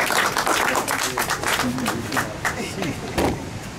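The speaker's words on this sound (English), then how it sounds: "Brother Kobe, clap for him, y'all." Audience clapping for Brother Kobe at a naming ceremony at One Africa Resort in Elmina, a dense, steady patter of many hands lasting throughout, with a voice speaking over it.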